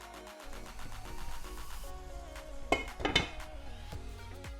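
A spoon working vegetables and masala around a pot for vegetable biryani, with a few clinks and scrapes against the metal and a quiet cooking hiss underneath.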